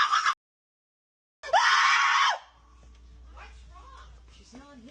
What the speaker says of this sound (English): The scream came.